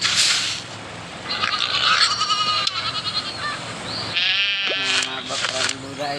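Goat bleating in a farming video game, repeated calls heard alongside game music and chimes, fairly loud, with talk running underneath.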